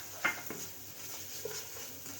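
Green chillies with their stems, coriander and mint are stirred into fish pulao masala in a pot for Sindhi fish pulao. Faint, soft scraping with a few light clinks, quiet and close.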